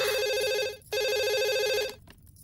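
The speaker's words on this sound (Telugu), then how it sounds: "తల్లి గుర్తుకొచ్చి పబ్లిక్ ఫోన్ నుంచి అబ్బాయి ప్రైవేట్ గా ఫోన్ చేస్తాడు" A telephone rings in a comedy film scene where a son calls privately from a public phone: two loud electronic ringing bursts separated by a short gap, then silence, with no talk.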